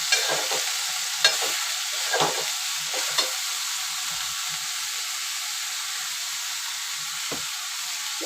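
Cabbage sautéing in a pan for a Konkan-style kobichi bhaji, a steady close sizzle with several sharp stirring scrapes and clicks early on, no talking.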